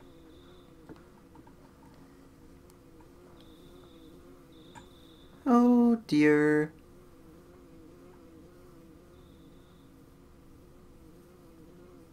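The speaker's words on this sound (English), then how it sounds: "Do you hear buzzing that sounds like a bee flying around?" Bee buzzing from the video game Earthbound drones steadily at low volume throughout, with faint high whines drifting in and out; a short loud burst of speech interrupts midway.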